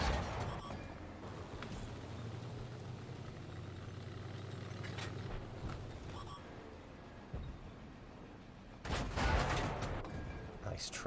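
Tank guns fire in the World of Tanks video game, with booming shots over a low, steady engine rumble and a bigger blast near the end. Someone talks through part of it.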